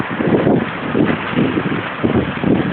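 Gusty wind buffets the microphone outdoors in hot Al Ruwais, UAE, a loud rumbling roar swelling and easing in pulses, with no clear speech.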